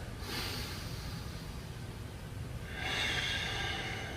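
A deep breath during a lower body yoga workout: one long, close, airy exhale, then a stronger breath near the end, with no talking.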